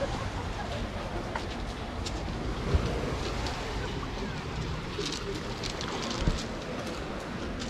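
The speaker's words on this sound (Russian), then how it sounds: "Такое море-то." Sea waves wash onto a pebble beach on the Yalta shore in Crimea, a continuous broad roar with soft surges, heard at moderate distance under faint wind.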